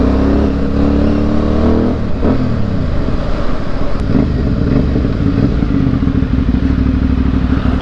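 A Yamaha Byson motorcycle engine runs loud and close, its low rumble shifting pitch as gears change, with mechanical clatter and a steady throbbing idle throughout.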